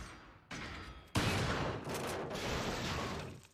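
Gunfire from the video game Resident Evil 4, a sudden loud burst of shots followed by sustained dense blasts and noise, with no talk over it.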